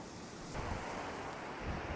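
Ocean waves breaking on a beach in Puerto Rico, a continuous broadband roar of surf swelling louder midway, with some wind buffeting the microphone.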